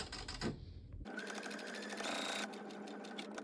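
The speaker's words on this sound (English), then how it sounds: "I'm just turning on my sewing machine" A home sewing machine stitches a crazy quilt redwork Christmas tree advent calendar kit, starting up after a brief moment and then running in a steady, close, rapid mechanical whir.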